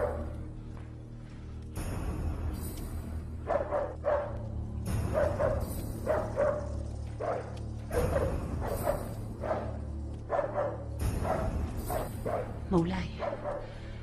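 A dog barks in repeated bursts during a dramatic historical scene, heard under people talking and a sustained musical backing.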